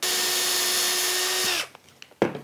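A power drill whines loudly and steadily as it bores holes through wood for a tracksaw cutting station, then winds down, followed by a few light knocks and clicks.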